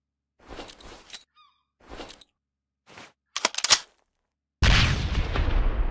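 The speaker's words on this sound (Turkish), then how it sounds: "Bir yerlerden sıkıyorlar." Gunfire in the survival game Sunkenland: scattered short bursts of shots at varying distance with gaps between, ending in a loud sustained roar of noise that fills the last second and a half.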